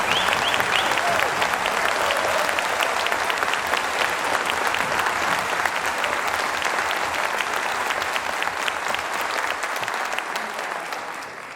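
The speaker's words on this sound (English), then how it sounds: "Can we give extra applause to the percussion section?" Concert audience applauding the percussion section of a wind symphony: sustained, dense clapping from a large hall that holds steady, then tapers off near the end.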